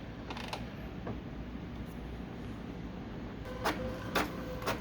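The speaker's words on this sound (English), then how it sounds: "We're just going to select 1 and it'll start printing." An HP ENVY printer runs a copy job, giving a steady mechanical whirr of rollers and gears with a few clicks and sharper ratcheting bursts near the end, close and moderate in level, with no talking.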